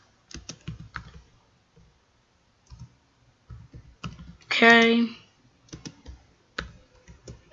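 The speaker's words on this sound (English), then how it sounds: "I was typing so well." Computer keyboard typing comes in quick bursts of clicky keystrokes separated by brief pauses. A voice speaks briefly partway through.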